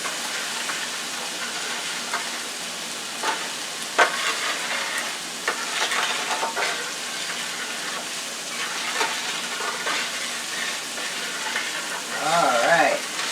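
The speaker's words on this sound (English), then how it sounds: "now I want to mix up the rice." Rice and vegetables stirred in a hot pan, a continuous loud sizzle with scraping stirs and a faint voice in the background.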